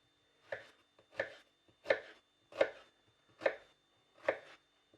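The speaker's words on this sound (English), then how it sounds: "So we just chop the onion." A knife chops through an onion on a cutting board as part of a shepherd's pie base, six crisp, evenly spaced chops sounding up close in an otherwise quiet kitchen.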